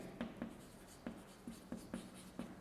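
A marker or chalk writes an answer on a board during a Class 12 physics lesson on capacitance, making a series of short, faint scratching strokes in an irregular rhythm, close by with no talking.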